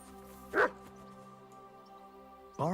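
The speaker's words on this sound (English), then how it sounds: "Barking." A dog in a video game barks twice, two short, sharp woofs about two seconds apart, moderately close, over a quiet steady background hum.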